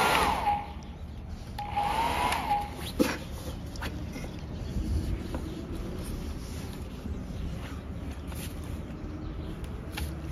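A hair dryer powered through a 1500 W pure sine wave 12 V DC to 110 V AC inverter, a steady airy whir running continuously at moderate level with a few faint clicks and knocks.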